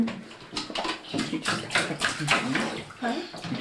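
Water runs and splashes in a bathtub at home while a child plays in it, giving loud, uneven splashes and gushes close by, with people talking over the water.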